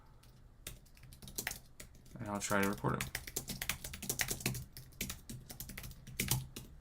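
Rapid typing on a computer keyboard clatters in quick, uneven bursts of keystrokes, close by, while a person speaks over it.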